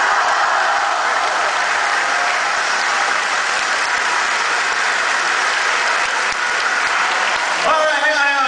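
An audience claps in a loud, dense, unsynchronised wash of many hands that continues for several seconds before ending abruptly into a brief voice.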